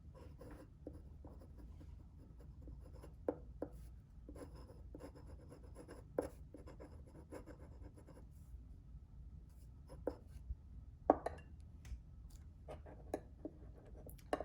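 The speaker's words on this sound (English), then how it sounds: "I'm going to do a writing sample for you just to see the properties of this mix." A fountain pen writes on cheap copy paper, close and quiet. Soft scratchy strokes and little taps of the nib come in an irregular rhythm over faint background hiss, with no speech.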